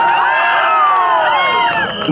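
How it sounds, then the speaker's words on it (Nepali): A crowd at the Surkhet fair roars with loud, sustained cheering and shouting, with rising and falling voices, close and continuous for the full two seconds. "एकचोटि जोरदार ताली"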